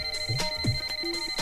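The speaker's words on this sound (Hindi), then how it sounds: "मदन प्लीज जाके फोन देखना प्लीज।" A phone ringtone plays briefly, a steady electronic tone with a few short melodic notes, fairly loud and alone.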